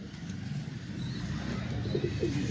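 A Teddy Cross pigeon gives a few soft, low coos near the end, faint over a quiet background hum.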